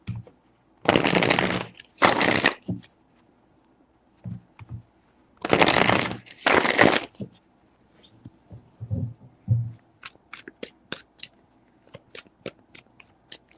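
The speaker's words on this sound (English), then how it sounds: "Three shuffles." Tarot cards being shuffled in short riffling bursts, two quick pairs of crisp, close papery rattles separated by pauses, then softer handling taps and light clicks of the deck.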